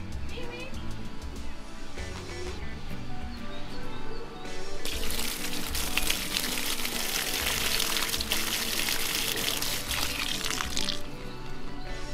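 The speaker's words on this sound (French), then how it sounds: "Ça coule encore l'eau?" Water runs steadily through a drain line after a lift pump has been installed, a continuous broadband rush that swells louder midway, with people talking over it.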